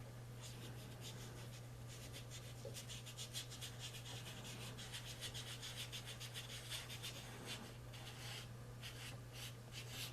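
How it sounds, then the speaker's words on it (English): A sandpaper blending tool, normally meant for pan pastels, rubs across paper in quick repeated scratchy strokes, close and soft over a steady low hum. "Because this is sandpaper, one of these sandpaper things."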